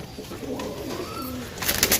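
Soft, low pigeon coos repeat in a murmuring rhythm nearby, over a steady background hum, with some brighter rustling near the end.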